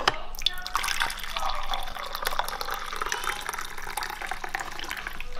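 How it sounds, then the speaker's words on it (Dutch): Tea being poured into a cup in a home kitchen, a steady close trickle of liquid with small drips, running continuously throughout at moderate level. "ik was van plan even nog een kopje thee in te schenken"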